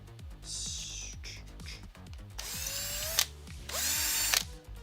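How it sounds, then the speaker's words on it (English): A power drill with a 5mm bit whirs in short bursts, then runs in two longer high-pitched spins as it clears a hole during a Voron 2.4 3D printer build, close and loud. "5mm drill bit, just clear out the hole real quick."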